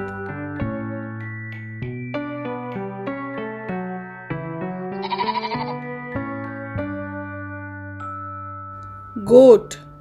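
A sheep bleats briefly over gentle background music, with a short wavering baa near the end and a fainter earlier burst.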